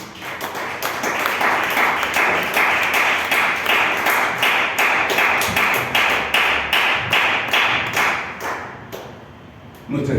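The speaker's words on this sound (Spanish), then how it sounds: "Denle una ofrenda de palmas a Dios." A church congregation claps loudly and steadily together as an offering of praise to God, a dense sustained wave of many hands that thins slightly near the end.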